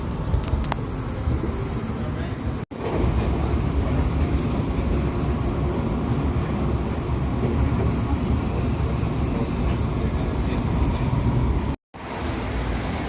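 Metro train at Ayurá Metro Station in Envigado, Colombia: continuous loud rumble and rolling noise of the cars, steady and close, with station ambience underneath and two brief cuts.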